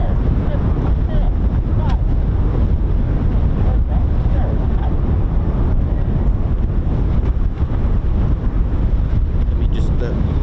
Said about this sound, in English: Windy up here, man.